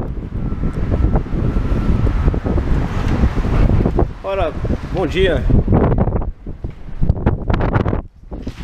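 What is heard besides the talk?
strong wind blowing outdoors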